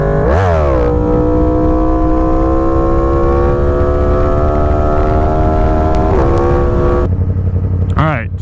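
A Yamaha FZ-10/MT-10 motorcycle accelerates hard into a wheelie, its loud, close engine note climbing through a shift and then holding a strained high rev before the throttle drops off near the end.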